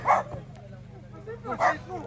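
A dog gives two sharp barks about a second and a half apart, fairly close, over a quiet background at a snowy campsite.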